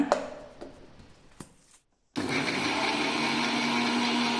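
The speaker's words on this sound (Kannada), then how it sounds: "ಗ್ರೈಂಡ್ ಮಾಡೋಣ" A mixer grinder grinds tamarind, salt, chilli and water for potato jumpu, starting with a few bumps and knocks, a brief silence, then a loud, steady electric whir running close and unbroken to the end.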